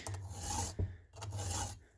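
A hand file sharpening a chainsaw chain in the backcountry, two long rasping strokes with a short metallic catch between them, close and clear with no talk.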